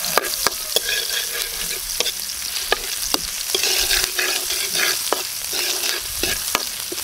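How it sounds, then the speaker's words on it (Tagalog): Ginger, onion and garlic sauté in a hot pan for beef sinigang na pares: a steady close sizzle broken by irregular sharp spatula scrapes and clicks against the pan. "mag-gisa na tayo ng luya"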